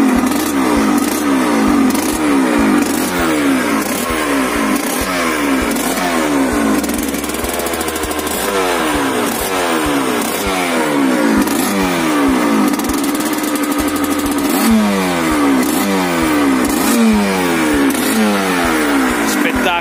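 A 1980s full-power Aprilia 125 GS Replica Reggiani two-stroke motorcycle engine revs repeatedly in rising and falling bursts, loud and close, with a steady rumble between throttle blips.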